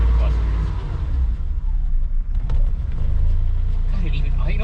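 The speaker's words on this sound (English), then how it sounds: "God, it even idles?" A 1987 BMW 528e engine idles roughly, not running on all cylinders, a loud low uneven rumble with a voice speaking over it.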